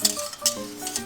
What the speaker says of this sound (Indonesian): Jadi kita gaulkan sehingga bahan-bahan itu larut